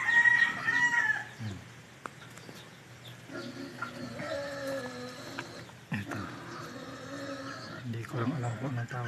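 Free-range backyard chickens in Matnog, Sorsogon cluck and a rooster crows loudly at the start, with more clucking continuing under a voice talking nearby.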